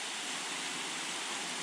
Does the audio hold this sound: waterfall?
yes